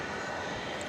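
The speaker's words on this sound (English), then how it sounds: "American Flight 2861 from Santa Ana, 737-800" An American Airlines Boeing 737-800 arriving from Santa Ana at Dallas-Fort Worth airport at night gives a steady, broad jet roar that holds evenly throughout, without a break.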